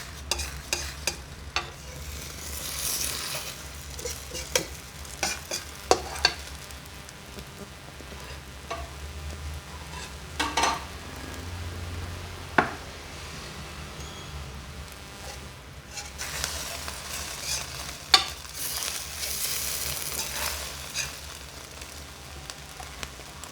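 Eggs fry in oil in a pan with a steady crackling sizzle and frequent popping spatters, close and moderately loud, swelling in bursts as the oil spits.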